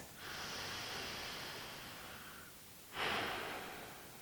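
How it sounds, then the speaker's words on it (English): Calm, deliberate breaths drawn in through the nose and let out naturally, two long airy inhalations with a gentle exhale between, close to the mic and soft against quiet surroundings. "we're just going to breathe in through our nose and just breathe out naturally"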